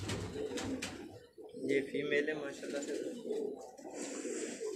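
Pigeons coo in low, rounded, repeated calls close by, kept by a fancier breeding pure-bred birds, while someone speaks over them.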